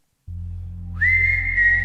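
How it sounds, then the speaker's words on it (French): A single clear whistled melody line, film music from Le Dossier Maldoror, begins after a brief low hum and holds a steady sustained tone, loud and close, with no talking. "J'ai entendu un sifflet"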